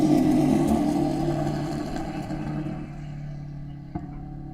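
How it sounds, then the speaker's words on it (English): Vintage Eagle race cars lap the 4-mile Road America circuit, their engine note loud at first and then fading gradually into the distance. "let's listen to those exhaust notes one last time as these Eagles make their way around this 4-mile course."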